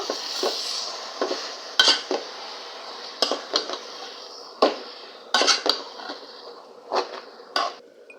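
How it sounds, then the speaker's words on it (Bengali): A spoon scrapes and clanks against a pot while Malabar spinach with shrimp is stirred, sharp irregular metallic knocks over a low background hiss, close and fairly loud. "এখন একটু শাকটা নেড়ে চেড়ে দিব।"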